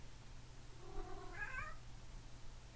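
A single faint cat meow rises and falls once against a quiet background hum.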